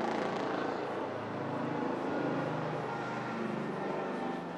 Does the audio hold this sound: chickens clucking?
no